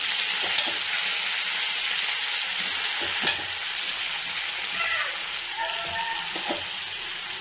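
Cleaned mint leaves fry in a pan with a constant crackling sizzle, broken by occasional sharp clinks and scrapes of a spoon stirring against the metal; no voices.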